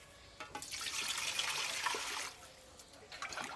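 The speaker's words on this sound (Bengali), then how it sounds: "এবার খুদটা ভালো করে ধুয়ে নেবো।" Water splashing and sloshing in a village kitchen as broken rice (khud) is rinsed by hand, a steady wet swishing that swells for a couple of seconds and then eases into quieter trickles.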